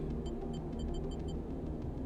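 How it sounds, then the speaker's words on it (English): Proximity alarm in the video game Citizen Sleeper 2: Starward Vector as a ship docks and the docking bridge extends: a string of quiet, evenly spaced electronic beeps over a steady low rumble. The beeps fade out partway through. "While the docking bridge extends and a proximity alarm goes off"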